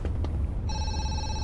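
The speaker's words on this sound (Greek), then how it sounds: "Τηλέφωνο αυτό." A telephone in a horror video game rings with a steady electronic tone that starts partway through, over a low background rumble.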